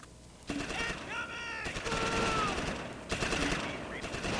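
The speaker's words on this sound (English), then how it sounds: "Our sniper's getting shot at, too." Gunfire aimed at a sniper in the World War II strategy game Close Combat, Airborne against Fallschirmjager in Normandy: sustained loud rattling bursts with whistling tones over a noisy battle bed, with a voice speaking briefly.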